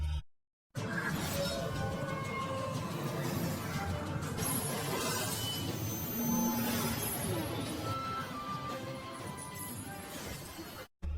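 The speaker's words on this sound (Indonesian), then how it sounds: "Tanpa sengaja tusukan itu tepat di rantai yang membelenggu Luping, yang membuat salah satu rantai itu telah hancur" Shattering sound effect of a chain breaking in an animated fantasy action story, a dense, loud, sustained crashing and breaking noise that fills nearly the entire stretch and then cuts off abruptly.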